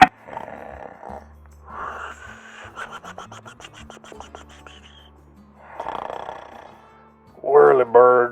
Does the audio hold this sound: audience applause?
no